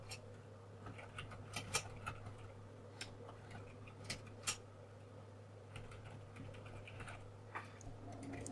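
Fast typing on a computer keyboard, with quiet clicks in uneven bursts and a few sharper keystrokes over a low steady hum, faint and close.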